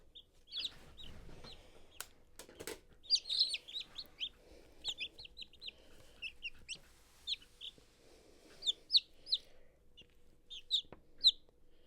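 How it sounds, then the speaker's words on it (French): Baby chicks cheep in short, high, bright peeps, scattered irregularly and close by in a quiet room. A few soft knocks and handling noises come early on. "Écoutez le son de l'amour des petits poulets."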